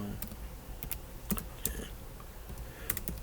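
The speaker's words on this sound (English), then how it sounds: "Let me just type this in and see how many views it got." Quick bursts of computer keyboard typing, clicky keystrokes in small clusters with pauses between, close by and moderately quiet, with no voices over them.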